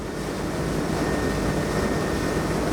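A Saxdor 270 GTO boat with an outboard engine runs at around 30 knots into wind and tide, a steady, loud engine drone with rushing wind and water noise, continuous and unbroken, with no voices.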